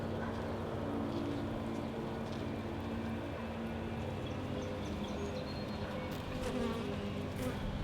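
Honeybees hum in a dense, continuous buzz inside a Layens horizontal hive during a 10-day check, heard close up and steady throughout.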